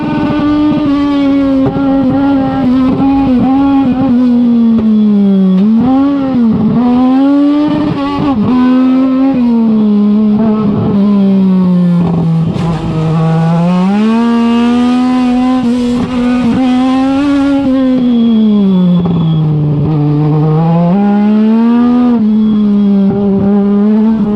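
A small race car engine drones loudly and steadily through a timed run, its pitch rising and dipping as the driver accelerates, shifts and slows through turns, with no one speaking.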